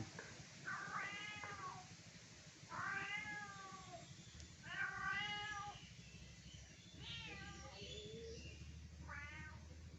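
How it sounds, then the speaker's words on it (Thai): A cat meows repeatedly near a temple, about five drawn-out cries spaced a couple of seconds apart, fairly close, over a faint background hum. "เสียงแมวร้องนะ ผู้ชม"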